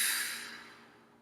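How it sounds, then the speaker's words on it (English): A single deep, breathy exhale during guided meditation breathing, close and fairly quiet, fading out gradually over about a second with no talk. "and exhale."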